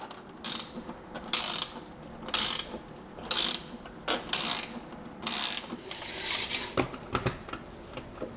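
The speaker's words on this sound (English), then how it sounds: "this is where you need the 7/16 wrench, and just repeat that" Repeated ratcheting clicks of a 7/16 wrench tightening bolts on a solar panel mount for an RV carport, coming in roughly eight short bursts at an even rhythm, close and fairly loud, with no talking.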